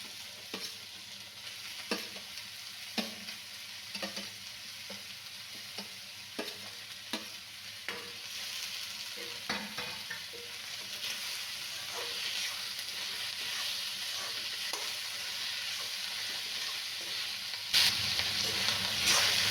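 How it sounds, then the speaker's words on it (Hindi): Stuffed karela (bitter gourd) frying in a pan, a continuous soft sizzle broken by repeated scraping knocks of a spoon stirring, close and steady with no voices. "इसको मैंने 30 सेकेंड तक चलाया है।"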